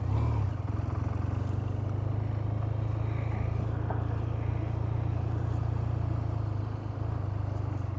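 A BMW R12 G/S motorcycle with a 1200 engine rides on a road, a steady low engine drone with wind rumble and no clear changes in pace.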